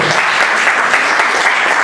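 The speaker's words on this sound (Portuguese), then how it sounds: "Dá um forte aplauso para Jesus." Congregation clapping loudly in church during a communion service, a dense, continuous burst of many hands close by, even and sustained without any talk on top.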